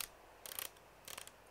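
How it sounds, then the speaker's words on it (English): Two short bursts of ratcheting, clicking mechanical noise, quiet and close, as a UH-1H helicopter main rotor assembly is repaired in the video game DayZ. "I'm just going to carry on repairing. So I'm going to now repair the H rotor."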